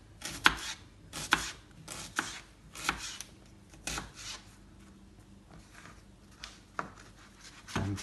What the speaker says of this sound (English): and finely chopped onion